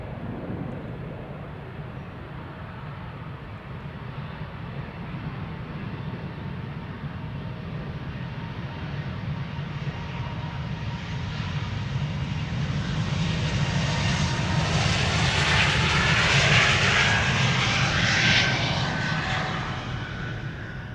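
A four-year-old Bombardier C Series 300 jet takes off at Amsterdam Schiphol bound for Riga, its engine roar building from a steady rumble to a loud, close, whining peak before easing slightly, with no talk.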